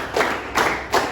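High school students in a classroom counseling lesson clap in unison during a counting game, three sharp group claps evenly spaced, near and clear with no voices.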